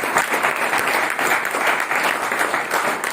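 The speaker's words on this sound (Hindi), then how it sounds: "जोरदार तालियों से" Loud, dense applause from an audience at a spiritual gathering in a home, a steady wash of many hands clapping without break from start to finish.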